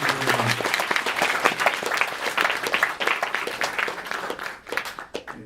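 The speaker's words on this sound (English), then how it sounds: "let's give our panel a big hand of applause" A robotics club meeting audience claps for a panel, a lively burst of many hands at moderate distance that thins and tapers toward the end.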